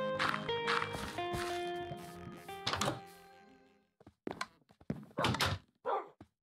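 Minecraft wolves outside a door: a few sharp thunks, then short bursts of barking and yelps, fairly close and moderately loud, with quiet gaps between them.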